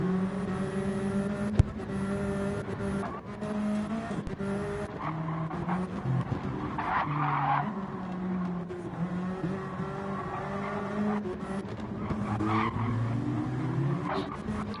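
Sim race cars howl around the Eiger Nordwand track at dusk, engines droning and shifting pitch as they pass, with tires squealing and skidding through corners over a steady, continuous racing din.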